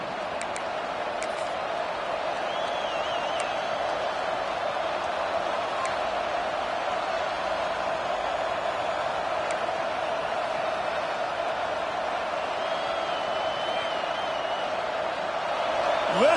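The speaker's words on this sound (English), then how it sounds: "Listen to this crowd just shaking the girders of this place trying to help their defense." A football stadium crowd at a TCU game roars in a steady, sustained wall of noise, loud and distant-sounding, with faint whoops rising out of it.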